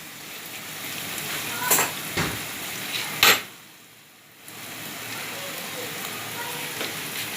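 A spoonful of amchur goes into potatoes sautéing in a pan: a soft, steady sizzle with a few sharp metallic taps of the spoon on the pan, then a brief lull before the frying hiss resumes.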